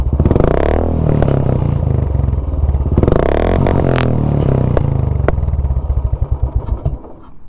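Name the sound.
modified Royal Enfield Classic 350 exhaust popping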